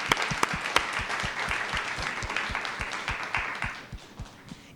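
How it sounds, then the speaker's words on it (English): Audience applause at a school board meeting, a room of people clapping steadily with individual claps audible, fading out toward the end. "Let's give her a round of applause as well."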